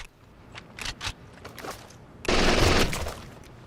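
Gunfire in Rainbow Six: Vegas, scattered shots early on, then a loud sustained burst of fire near the middle of the stretch before it fades.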